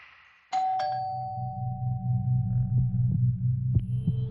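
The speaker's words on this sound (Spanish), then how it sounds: "Y me parece que al día siguiente el timbre sonó" A doorbell rings late at night in a home, two chime strikes whose long tone rings out clearly over a steady low hum.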